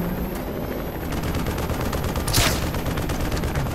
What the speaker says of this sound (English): What is he shooting at?